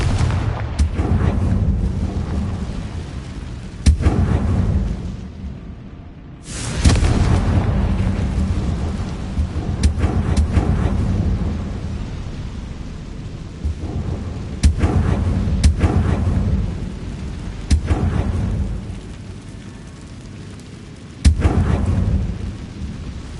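Confringo fire spell blasts in the Hogwarts Legacy video game: a series of loud, booming explosions recurring every few seconds, each with a sharp onset and a rumbling tail, over a constant low background din.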